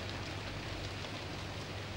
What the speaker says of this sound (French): il fait pas semblant de pleuvoir, hein. Il y a de l'orage et tout.